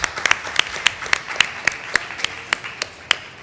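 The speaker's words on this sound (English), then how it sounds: "An applause also for Agnes." Sparse clapping from a small group at a conference session, a few distinct, sharp claps in a loose rhythm, close and fairly loud with nothing else over them.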